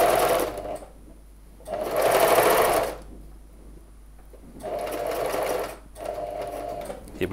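A sewing machine stitches through the layers of a jeans fly, zipper tape, front panel and underlap, in four loud bursts separated by quiet pauses.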